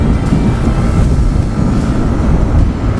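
A 2022 Yamaha Mio Gear 125 Standard scooter rides along with an 85 kg rider, its engine a continuous loud drone under heavy wind buffeting on the microphone.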